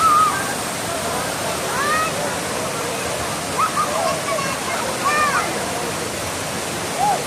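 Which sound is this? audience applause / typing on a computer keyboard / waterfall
waterfall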